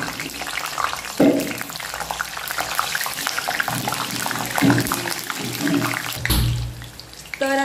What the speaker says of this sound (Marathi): तर आता सर्वात शेवटी आपण मिरची फ्राय करून घेणार आहोत.